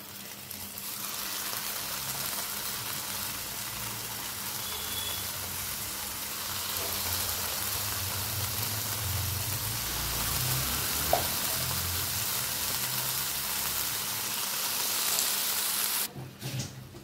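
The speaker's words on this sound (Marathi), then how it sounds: "आता हे आपण मॅरिनेट केलेलं चिकन कढईत टाकत आहे" Marinated chicken pieces sizzling steadily in a hot kadhai greased with mustard oil, a continuous close frying hiss lasting throughout with a brief clatter near the end and no talking.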